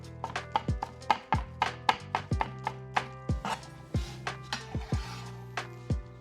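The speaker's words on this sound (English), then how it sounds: "We'll start by roughly chopping up some scallions." A knife roughly chops scallions on a cutting board for ramen garnish, giving a fast, uneven series of crisp knocks, close and clear with no talking.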